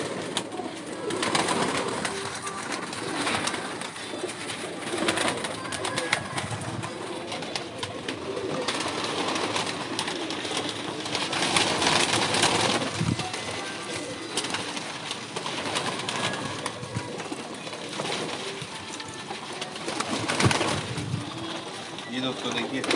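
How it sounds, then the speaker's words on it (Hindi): Pigeons coo close by against a loud, hissy, wind-like background that never lets up. "मैं आपको कुछ कबूतरों का शौक़ करवाता हूँ पकड़ के, और दिखाता हूँ उनको करीब से"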